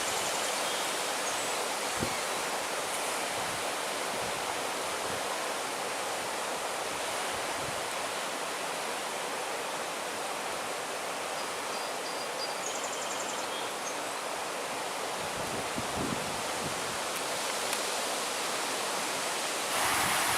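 A river near Greenstone Falls in the Porcupine Mountains, its steady broadband rush of flowing water constant and moderately distant for the whole stretch, with a few faint knocks and rustles.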